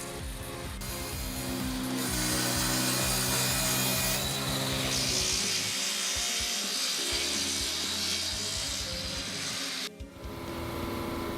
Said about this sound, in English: Close-up of the process of processing old wood at Edmiston Sawmill.